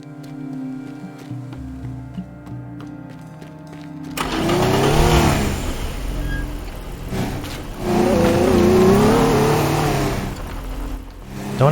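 A car in the video game Teardown starts up and drives off, its mid-pitched engine revving in two loud swells after a quieter stretch of music-like tones at the start.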